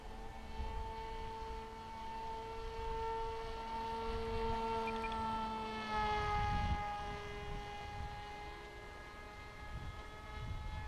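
SweepWings Runt 26-inch electric RC plane in flight, a faint high motor whine with steady tones that shift slightly in pitch as throttle changes, heard at a distance over light wind rumble.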